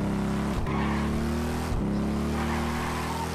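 A car engine in the GTA RP video game drones steadily and revs as the car pulls out of a garage, with two brief gear-change dips and no talk over it.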